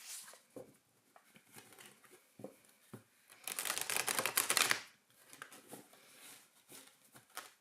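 Tarot de Marseille cards being shuffled at close range: scattered soft taps and riffles, then a dense burst of rapid card flutter lasting about a second, followed by lighter handling clicks, quiet and with no talking.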